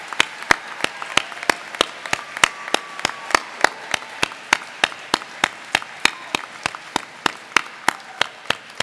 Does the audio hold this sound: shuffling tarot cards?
no